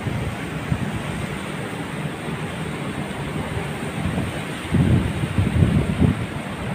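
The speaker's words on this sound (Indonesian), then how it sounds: "Di sini lagi banyak angin" Strong outdoor wind buffets a Realme C15 phone microphone, a steady roaring rumble that swells louder in gusts near the end, close and fairly loud, with no speech over it.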